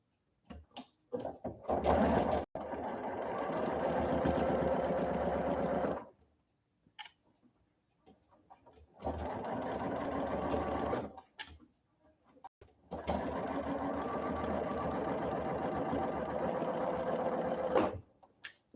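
A sewing machine stitches a quarter-inch seam for a clip cushion quilting project, running in three sustained, steady whirring bursts separated by short pauses and faint handling clicks, close and with no talking.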